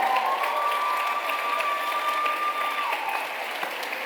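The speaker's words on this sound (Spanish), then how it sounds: "Un aplauso más fuerte para ellos" Audience applauding a university folk ballet group after a performance at an astronomy lecture, a full, steady roar of clapping with a faint sustained tone running beneath it, fading slightly toward the end.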